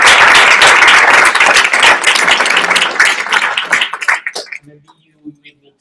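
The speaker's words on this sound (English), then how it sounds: "I would like to ask you to make an applause to the guys" Audience applause at the close of a PhD+ 2015 event session, dense loud clapping from a crowd that thins out and fades to a few scattered claps and then quiet.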